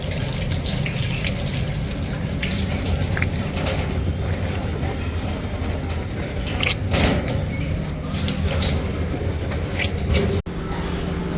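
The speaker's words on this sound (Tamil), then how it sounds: "கை கழுவ போகிறேன்." A tap runs steadily as hands are washed beneath it, a close, continuous splashing rush with a brief knock near the end.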